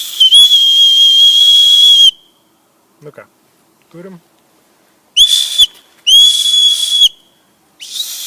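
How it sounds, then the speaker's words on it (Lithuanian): A beer-can whistle with adjustable pitch, blown in several loud, piercing bursts of varying length, with brief spoken words in the pauses between them. "švilpuką, kurio tiesiog tonaciją, tą garsą galim reguliuoti"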